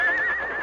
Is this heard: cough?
no